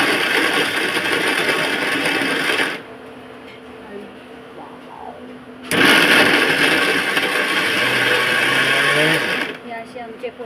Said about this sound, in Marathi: चला आता आपण मिक्सरला लावूया.